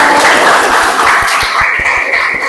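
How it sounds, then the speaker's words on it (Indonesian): A class of students applauds a classmate in an Islamic religious education lesson: a short burst of fairly loud group clapping, steady and close, with the teacher's voice faintly present. "Oke, tepuk tangan untuk Anjas."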